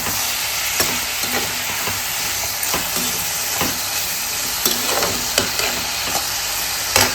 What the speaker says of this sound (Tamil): வெங்காயம் நல்லா வதங்கி பாருங்க. இது லைட்டாக வதங்கட்டும்.